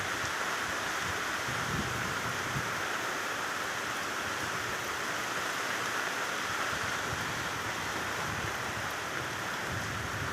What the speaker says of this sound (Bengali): মিনিটের মধ্যে আবার ঝড় টাইপের শুরু হয়ে গেল। ভীষণ জোরে হাওয়া হচ্ছে